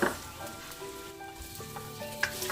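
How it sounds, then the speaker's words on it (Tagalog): Garlic browning in a little oil in a pan for pinakbet, a steady soft sizzle with a faint scrape of stirring near the end, no talking. "Lagay ang bawang. Ipa-brown yung konti."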